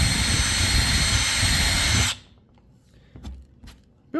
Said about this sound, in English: let's get to some drilling, and we're going to be using a 5/16 bit